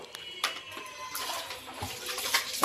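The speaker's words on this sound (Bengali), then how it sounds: "অনেক ফোর্সে পানি দিতে হবে, আদারওয়াইজ কিন্তু আপনার চাকাগুলো পরিষ্কার হবে না।" Water sprays forcefully from a pressure sprayer onto a motorbike during washing, a close, rushing hiss with brief bursts and splashes over a few seconds.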